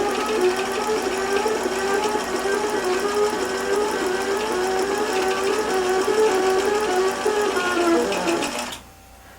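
A sewing machine stitches a 10-inch seam with a steady, close, continuous whirring hum that runs for about nine seconds, then stops abruptly.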